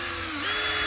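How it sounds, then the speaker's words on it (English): A power drill whines steadily as it bores a hole in the back of a thin aluminum pop can, a brief close-up high-pitched motor drone with a slight shift partway through. "Drill a hole in the back of that."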